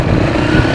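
A 1982 Honda C70 Passport motorcycle engine settles back to a steady idle, a close, loud, continuous low chug with no talk over it.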